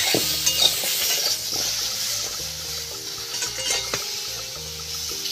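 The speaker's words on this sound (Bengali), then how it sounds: "এবার একটু নাড়াচাড়া করে আমি জল ঢেলে দেব।" Hog plum chutney with turmeric and salt being stirred in a pan, with soft scraping and sizzling, then water poured in; moderately quiet and close, no speech.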